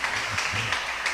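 A congregation at a church service held in a garage breaks into a steady wash of applause, dense and moderately loud, with no voices over it.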